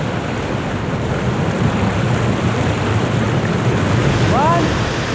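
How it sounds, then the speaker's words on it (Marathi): Water plunging about 100 feet into a deep pool roars as a loud, constant broadband rush near the falls, with a brief whistle-like sound near the end. "जवळपास 100 फुटांवरून कोसळणारे पाणी"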